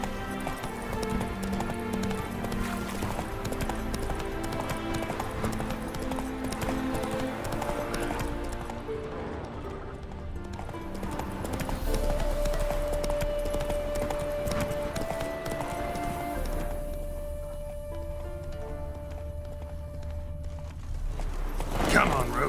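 Roach, a horse in The Witcher 3: Wild Hunt, gallops with steady game clip-clop hoofbeats and an occasional whinny, mixed under a continuous musical score and a voice.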